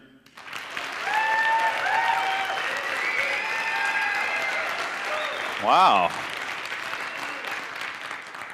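A live audience applauds and cheers for a contestant named Andrew at a contest results announcement, sustained dense clapping with whoops running for several seconds, a brief voice exclaiming over it near the end.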